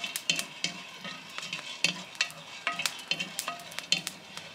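Coffee beans roast on a Gran Canaria coffee plantation, giving off faint, irregular crackles and pops like popcorn over a soft, sizzling background hiss.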